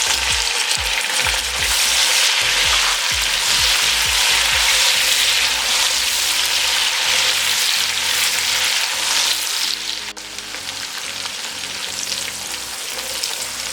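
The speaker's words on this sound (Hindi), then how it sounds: "अब इसमें टमाटर और हरी मिर्चें डाल देंगे, इसे भी 2 मिनट के लिए पका देंगे।" Tomatoes and green chillies fry with onions in a hot pan for aloo palak, a loud continuous sizzle with stirring thumps early on that eases slightly near the end, no voices.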